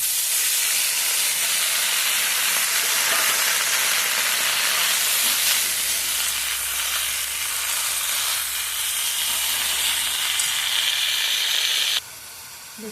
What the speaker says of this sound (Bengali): এবার দেখুন পোস্তটা ফুটে উঠছে